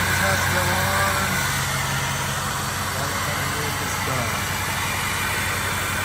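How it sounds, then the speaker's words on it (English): A rebuilt diesel pickup truck engine, formerly wrecked, idles close by with a steady, even low rumble that holds unchanged for the whole stretch. "the truck sounds great. We got our first couple little idle clips in."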